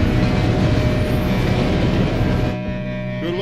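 A train in the Red Dead Redemption 2 video game gives a loud, steady rumble with a tonal hum and rail noise, which drops sharply near the end.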